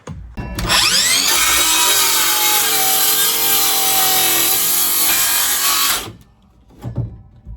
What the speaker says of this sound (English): do you want to grab me the jigsaw?